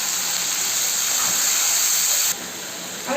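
Chopped onions hit hot oil with cumin seeds, whole garam masala and whole chillies, giving a loud, continuous steamy hiss that drops abruptly to a quieter sizzle near the end.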